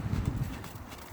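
A horse in a riding lesson moves at a posting trot, its hooves giving a muffled, rhythmic clip-clop on soft ground, close and steady over a dull background.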